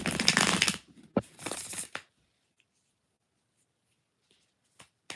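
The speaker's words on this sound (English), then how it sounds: "Let's do some shuffling." Tarot cards shuffled by hand in two bursts of dense riffling, each under a second, close and fairly loud, followed by near silence with a couple of faint taps.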